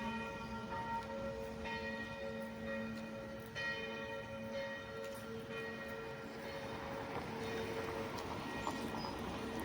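Church bells ring out in a Swiss town in the morning, with repeated resonant strikes and lingering tones carrying from some distance over a quiet street background.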